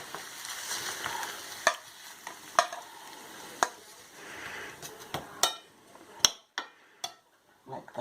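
Polenta (fried cornmeal) sizzles softly in a pan, with sharp utensil clicks and scrapes against the metal coming at irregular intervals, close and fairly quiet.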